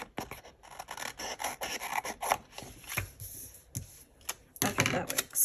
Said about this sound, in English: I'm just gonna cut this off.